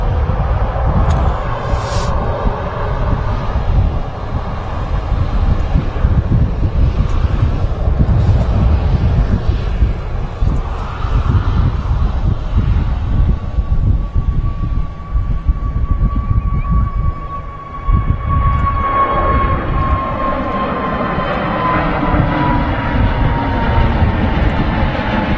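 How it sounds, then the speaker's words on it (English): Pegasus Airbus A320neo jet departing on its takeoff roll, a loud sustained engine roar with a rising and falling whistling tone, swelling and then gradually easing as it climbs away. "That's a 5-year-old A320neo. Very distinct sound, I think, from the Neos when they depart."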